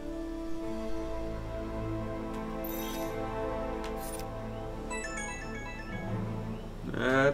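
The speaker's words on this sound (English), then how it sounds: "That's a phone chime." In South Park: The Fractured But Whole, a short rising phone chime of bright tones rings out over steady game music and ambience.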